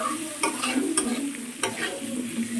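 Ginger sizzles in a pan while a utensil stirs it, giving a close crackling hiss broken by a few sharp scraping clacks of the spoon against the metal.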